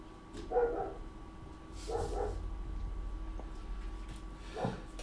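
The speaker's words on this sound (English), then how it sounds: "So I'm just gonna go see what the dogs are barking at in a sec." Several dogs bark in bursts, one near volley early, another around two seconds and a fainter one near the end, set against a low steady hum in a home room.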